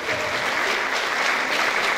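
Warm, steady applause from the audience at a spring song festival in Poland, many hands clapping together in a dense, even wash of sound, close and fairly loud.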